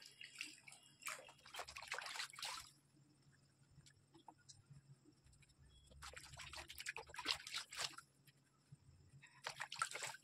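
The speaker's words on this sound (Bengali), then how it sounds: "অল্প জলে তো ভালো করে আমি মুখটা ওয়াশ করে নিয়ে এসে" Splashing water bursts in three clusters as a face is washed with a little water, each lasting a couple of seconds with quiet gaps between, close and moderately loud.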